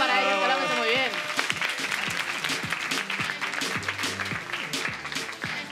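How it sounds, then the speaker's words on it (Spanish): Studio audience applauding the contestants on a TV game show, a dense burst of clapping with a voice speaking over it and some musical tones at the start. "Un aplauso para ellos, que lo hacen muy bien."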